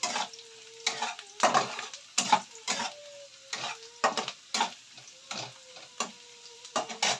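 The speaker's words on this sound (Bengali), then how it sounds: "পেঁয়াজটা ভাজা হয়ে গেছে অনেক লাল হয়ে" Onions frying in oil until deep red come with a quiet sizzle under repeated scraping and stirring strokes of a utensil against a pan, about ten rhythmic bursts, and no speech.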